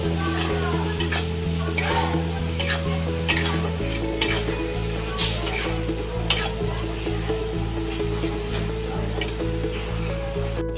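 Ground cumin and turmeric fry in a pan for Bengali eggplant bharta, giving a steady sizzle broken by rhythmic spatula scrapes and taps, over a low background hum and with no talk.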